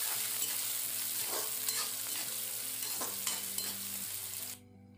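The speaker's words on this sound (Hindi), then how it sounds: "शिमला मिर्च डाल देंगे और हरी मिर्च। सारे को अच्छे से मिक्स कर देंगे।" Capsicum and green chilies are stirred into leftover rice in a hot pan, a steady sizzle with rhythmic spatula scrapes against the metal, cutting off abruptly just before the end.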